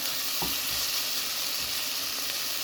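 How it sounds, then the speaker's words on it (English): Bean soup with paprika stirred in a pot, a steady sizzling and frying hiss with a few soft scraping stirs, close and continuous. "Mix everything real good."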